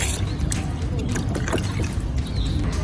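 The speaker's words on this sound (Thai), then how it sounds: "แล้วก็ทำการใส่น้ำเปล่าลงไปในบีเกอร์นะคะ" Plain water pours into a laboratory beaker with a steady, close trickle beneath broad background noise, with no clear voice.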